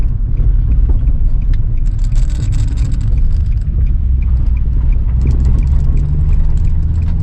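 Nissan 350Z with a manual gearbox turning into a driveway at low speed: a steady, loud low engine and road rumble with some scraping and rattling, heard from inside the car.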